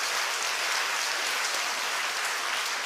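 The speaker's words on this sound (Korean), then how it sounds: "박수 한번 합시다" A congregation at a Sunday church service gives steady, dense applause for a son's graduation. The many hands blend into a continuous close wash of clapping with no voices.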